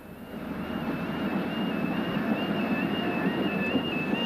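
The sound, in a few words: passenger train running towards North Woolwich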